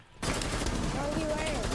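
Gunfire in a PS4 video game, a dense burst of rapid shots that starts abruptly and stays loud and continuous, with a voice speaking over it.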